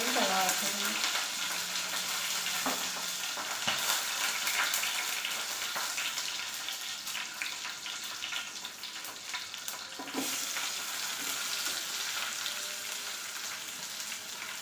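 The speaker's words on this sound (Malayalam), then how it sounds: "സവാളയിൽ കുറച്ച് ഉപ്പ് കൂടി ചേർത്തിട്ട് നല്ലപോലെ ഇളക്കി കൊടുത്ത്" Sliced onions sizzle in a pan, salted and stirred, a steady broadband frying hiss running throughout with occasional scraping of the spoon against the pan.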